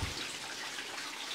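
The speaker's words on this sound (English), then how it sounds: "here's where it's coming from up here. Just a look from the top of the mound up here where the water's flowing in" Water flows into a tunnel inside an abandoned gypsum mine, a steady rushing splash, constant and moderately close.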